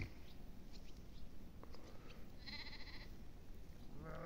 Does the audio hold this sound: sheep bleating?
yes